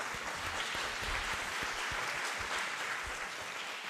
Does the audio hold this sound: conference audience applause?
yes